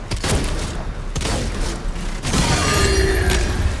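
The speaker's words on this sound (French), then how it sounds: "Qui c'est qui me tire dessus là?" Enemy gunfire in the video game DOOM: The Dark Ages, loud bursts of rapid shots and heavy booms mixed with whirring game mechanisms, continuous and close.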